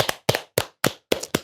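Six sharp, close hand claps in an even, unhurried rhythm, each a crisp separate smack with short silences between, no talking.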